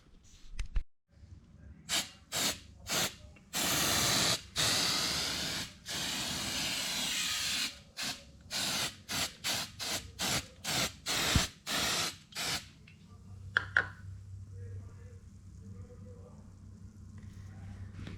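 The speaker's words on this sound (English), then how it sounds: "So I'll just put a bit of gasket stripper on the silicone." Gasket stripper is sprayed onto old silicone on a BBS RS three-piece wheel in a series of short aerosol bursts, several quick ones then longer hisses, close and fairly quiet, with a brief clatter near the end.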